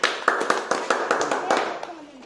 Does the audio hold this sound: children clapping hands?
yes